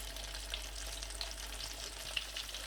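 Vegetable nuggets fry in hot oil with a steady, dense sizzle and scattered small pops, constant and close throughout with no talking.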